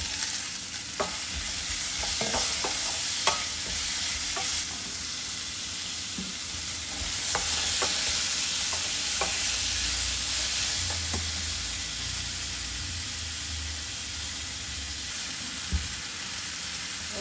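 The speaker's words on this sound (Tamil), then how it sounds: "இதை வந்து வதக்கிடலாம் இதில் வந்து ரெண்டு தக்காளி பழம் வந்து கட் பண்ணி வச்சுருக்கேன் அதை போட்டுருவேன்" Chopped onions and tomatoes sauté in a pan with a steady close sizzle and scattered spatula taps, and a deeper bubbling rumble swells midway.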